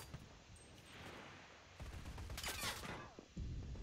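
Gunfire from an enemy player in the video game Enlisted crackles in bursts of rapid shots, moderately close, with a sharper volley near the end.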